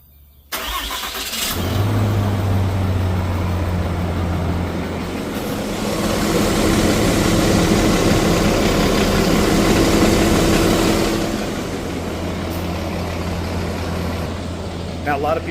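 A 2026 RAM Cummins diesel engine cranks and fires within the first second, then settles into a loud, steady, rumbling idle that continues for the remaining fifteen seconds.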